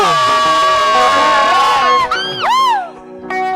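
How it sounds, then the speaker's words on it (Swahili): A church congregation cheers and ululates in praise, loud high warbling trills and shouts from many voices close up, with wavering pitch sweeps before the crowd noise briefly dips. "Shangwe na vigelegele kwa Yesu."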